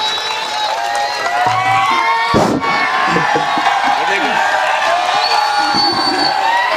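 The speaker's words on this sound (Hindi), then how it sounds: "एक बार ज़ोरदार तालियों से इस्तकबाल करें" Applause and cheering from a village crowd at a late-night mushaira poetry gathering, a loud sustained wash of clapping and shouts with a brief sharp thump partway through.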